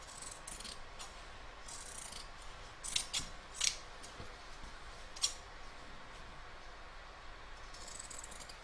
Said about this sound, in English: we can now trim away the excess